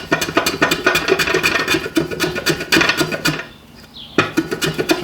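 A hand tool rasps rhythmically along wooden corners, beveling them down in a series of close, loud strokes that pause briefly near the middle and then resume.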